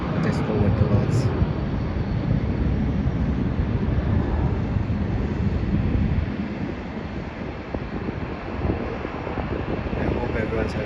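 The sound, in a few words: Virgin Australia Boeing 737 taking off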